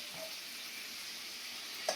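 Prawns frying in hot oil for a malai curry, a steady soft sizzle and crackle throughout with one sharp pop near the end, no talking.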